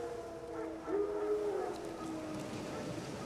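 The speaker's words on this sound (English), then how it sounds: "No. Wild dogs." Wild dogs howl in The Witcher 3, a faint, drawn-out wail rising over a steady game ambience, distant and mournful, lasting a couple of seconds.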